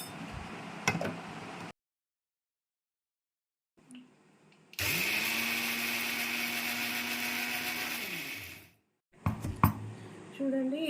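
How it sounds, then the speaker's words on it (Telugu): A mixer grinder blends soaked paper and fenugreek seeds with their soaking water. Its loud, steady whir runs for about four seconds, then cuts off abruptly. Short clicks and bursts of handling come before and after it. "ఇప్పుడు నేను వీటిని మిక్సీకి వేస్తాను."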